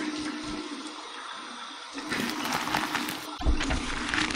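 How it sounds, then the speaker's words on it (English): Cold tap water splashes repeatedly against a face during a post-shave rinse at a bathroom sink, a close, steady watery rush that begins partway through and swells in a couple of louder bursts. "So here is my cold water rinse."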